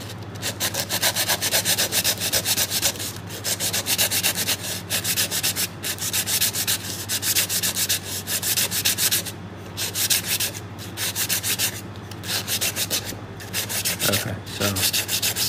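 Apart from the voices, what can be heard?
sandpaper sanding epoxy off a fishing rod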